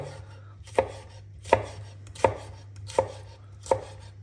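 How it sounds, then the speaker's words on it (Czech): A knife chops red peppers into strips on a cutting board in a home kitchen, five evenly spaced crisp thuds about three-quarters of a second apart, close and alone over a low steady hum. "tady mám červené papriky, nakrájím takhle"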